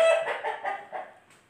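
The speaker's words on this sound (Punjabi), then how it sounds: "ਚਿੱਟੀ ਮੁਰਗੀ ਹੈ।" A white Aseel hen clucks in a short run of soft, rhythmic calls close by, tapering off toward the end.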